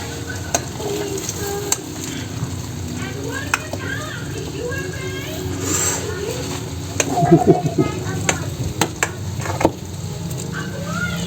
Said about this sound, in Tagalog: medyo nagmamantika na yung gata natin. Lalagay natin yung malagkit.